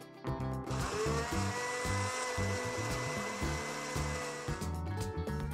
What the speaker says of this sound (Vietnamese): Đánh kem bằng máy đánh trứng.